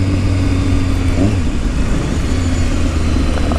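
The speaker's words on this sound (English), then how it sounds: "So I can shift without throttling down and without using the clutch." Engine of a 2015 BMW S1000RR sport motorcycle revving hard under load during quick-shifter upshifts made without the clutch, a loud, steady roar heard up close with a brief dip at the shift and no talk.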